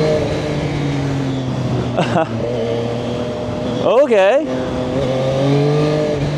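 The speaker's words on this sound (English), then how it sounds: "We can actually hear right away that this motorcycle is way louder than SR-675." Zontes 703RR sport motorcycle engine heard up close on a first ride, a steady droning tone that climbs and falls with gear changes and swells in a sharp rev near the middle, with a brief spoken word.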